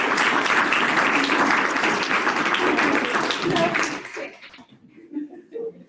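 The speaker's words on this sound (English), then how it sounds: "Let's do one more round of applause." Audience applause at a campus lecture event, loud sustained clapping with some voices mixed in, cutting off after about four seconds and leaving quiet room sound and a few soft noises.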